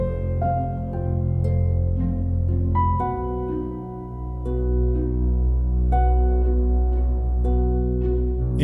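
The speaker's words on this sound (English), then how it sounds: "I add the sustained strings unison in the lower register along with" Sampled orchestral strings play a low, sustained unison line in the lower register with soft pizzicato plucks layered over it, moderately quiet and with no voices.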